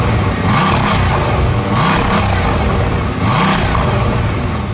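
A Bugatti Veyron's engine roars loudly and steadily with rising and falling revs, the high-performance exhaust droning continuously at close range.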